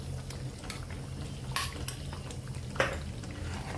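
A spoon stirs palak paneer with fresh cream in a pan, giving a few soft scrapes and clinks over a steady low sizzle, close and fairly quiet.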